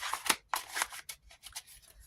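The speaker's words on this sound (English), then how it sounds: "I hate these little zipper things." A small plastic zipper rasps open in a few quick, close bursts, with short pauses between the scratchy pulls.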